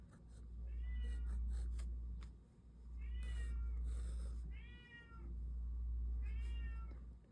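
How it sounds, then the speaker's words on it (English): A pet cat meows repeatedly indoors, four drawn-out calls at a slow, even pace over a low steady hum, fairly close and with no talking. "My cat is being annoying."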